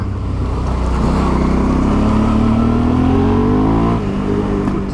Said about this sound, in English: when I cracked the throttle before, it sounded good.